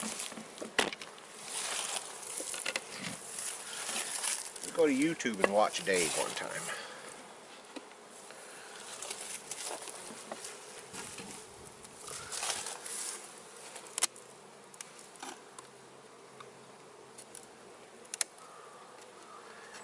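Honey bees from a South Carolina package colony buzz steadily while their hive is transferred, a dense close hum with scattered rustling taps, under a person talking throughout.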